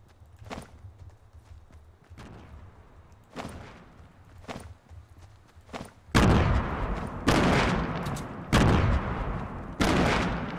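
Rapid gunshots in Fortnite Battle Royale, first a few sparse faint cracks, then from about six seconds a run of loud, close sharp blasts with decaying tails, about five heavy shots spaced roughly a second apart.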